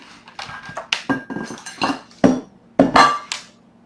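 Glass casserole dishes being handled and set down for planting microgreens, a series of close clinks and knocks at an irregular pace, with a couple of sharper hits toward the end.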